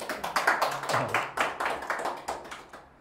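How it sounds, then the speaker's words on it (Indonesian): A small group of people clap together during a casual food-vlogger interview, a close, steady run of sharp hand claps that lasts about three seconds and slowly tapers off at the end. "Tepuk tangan lagi dong."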